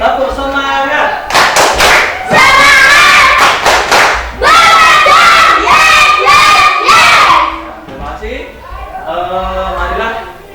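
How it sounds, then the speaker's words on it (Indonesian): A classroom of students performs a rhythmic spirit-clap chant, shouting and clapping in quick bursts with loud crowd voices, then the noise drops to quieter chatter near the end. "kita tepuk dulu. Tepuk semangat."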